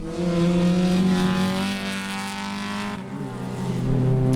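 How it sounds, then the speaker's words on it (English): Race car engines drone loudly and steadily as the cars pass close by at moderate pace on cool-down laps at Sebring, the pitch shifting slightly as they go. "you see the cars going by in their cool down laps"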